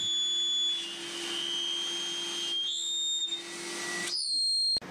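A cyclone separator dust collector runs beside a Makera Carvera Air desktop CNC, giving a loud, steady whine with sustained high tones and a constant low hum that change pitch slightly throughout.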